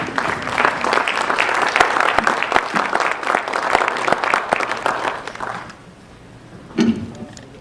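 A church congregation gives a round of applause to the Lord during a service: dense, sustained clapping that fades out around the sixth second, followed by a short burst of sound near the end.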